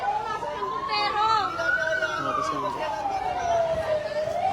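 A fire truck siren wails as it arrives at a fire on Baesa Road in Quezon City, its slow rising and falling tone loud and sustained while people talk and chatter nearby.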